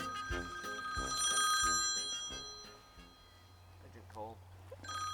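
A telephone bell rings in repeated bursts inside a busy shepherd's lambing shed, with voices talking over it and a low hum underneath.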